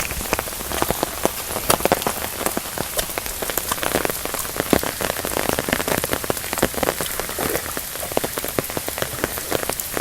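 The first rain of an incoming storm pours down steadily, a dense close patter of drops striking surfaces with no pauses and no voices.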